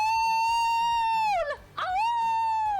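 A dog howls in the Ace Attorney Investigations video game, a long loud sustained tonal howl that dips and breaks before rising into a second drawn-out howl, over a quiet game background.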